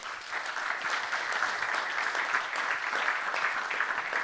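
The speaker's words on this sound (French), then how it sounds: "on peut applaudir Marie pour sa présentation" A conference audience applauds a presenter's talk with continuous, even clapping that stays moderate in level and unbroken throughout.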